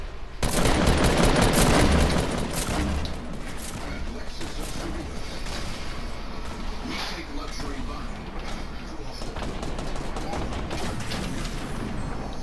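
Gunfire in Fortnite Battle Royale, with bursts of rapid shots, loudest at the start and then continuing more steadily, while players talk over it throughout.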